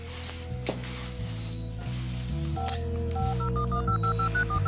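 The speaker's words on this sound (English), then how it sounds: "get Judge Riley on the phone for me, will you?" A telephone number is dialed in a TV drama scene: a steady run of touch-tone beeps, one after another, heard over a layered background of music and room tone at moderate level.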